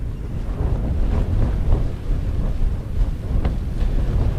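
Strong wind buffets a Hilleberg Soulo Black Label tent on a Lake District wild camp, a steady loud roaring rush with gusts and flapping fabric, no voices.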